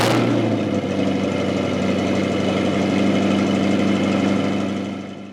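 A 2025 Corvette Stingray Z51 2LT convertible idles loudly and close, a steady low burbling rumble after a brief blip at the start, holding even before fading slightly at the end.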